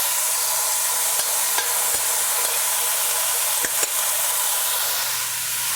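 Chopped okra and garlic go into a hot pan and sizzle loudly and steadily, with a few sharp ticks and crackles over the constant hiss.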